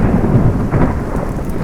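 A thunderstorm in full force, loud and close: heavy rain pours continuously while deep thunder rumbles underneath, with no talking.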